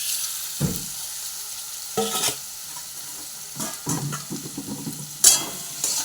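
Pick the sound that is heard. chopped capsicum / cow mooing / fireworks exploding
chopped capsicum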